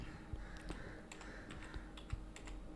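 Computer keyboard clicks while editing an Excel chart title: a few scattered, light keystrokes and taps over a noisy, humming background, ending with a key pressed to confirm, fairly faint and without speech.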